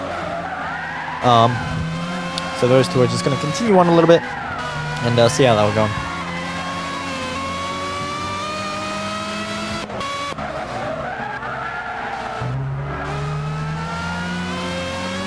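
Racing cars in a Gran Turismo endurance race, the Reaper Online and Team-wise Racing cars, roar with engine revs and squealing tyres, loud and close, while a commentator talks over the steady engine drone.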